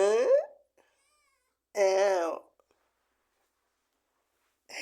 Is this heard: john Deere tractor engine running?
no